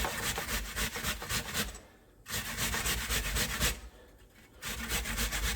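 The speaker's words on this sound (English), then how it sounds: "I'm going to use the real thick side slots because we want the nice big strips of the apple in here" An apple rubbed against the thick slots of a box grater for big strips, producing steady rhythmic rasping strokes close up, with two brief pauses between bursts.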